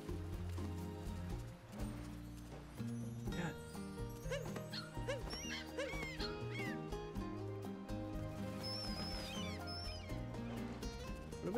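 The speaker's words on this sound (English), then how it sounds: "Oh, that's a doggy!" A dog in the video game Super Mario Odyssey whimpers and sniffs over steady, busy game music, with the animal sounds blending into the melodic background throughout.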